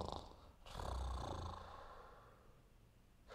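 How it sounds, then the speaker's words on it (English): Deep, rumbling snore rising and fading over a couple of seconds, with a breathy tail, serving as a snoring sound effect during a fantasy tabletop role-playing narration. "Soon the air is heavy with the sounds of snoring."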